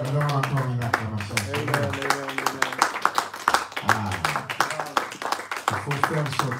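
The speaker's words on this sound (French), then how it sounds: "Nous avons encore une acclamation." Church congregation applauding and clapping during a French-language service, rhythmic claps mixed with singing or chanting voices and talk throughout.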